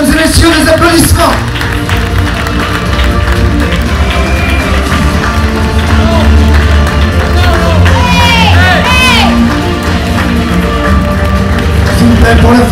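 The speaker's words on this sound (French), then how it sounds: "S'il vous plaît, mesdames et messieurs, des applaudissements." On stage at the Golden Globe Race 2018 arrival ceremony, a crowd claps and cheers for sailor Istvan Kopar, loud and sustained, with shouts and voices mixed into the ovation.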